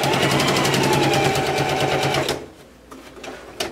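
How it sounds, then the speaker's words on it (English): Sewing machine running fast and steady while stitching a circle blouse, loud and close for about two seconds, then stopping into quieter handling noises with a brief click near the end. "And I'll sew it down to this end."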